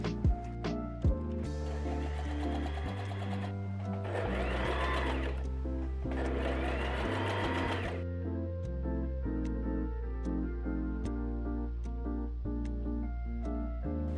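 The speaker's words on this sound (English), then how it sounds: "Sew the sleeves together and attach it." A sewing machine stitches the sleeves of a floral coat, running in a loud, steady mechanical whir that changes pitch with speed, with brief pauses between runs and no talk.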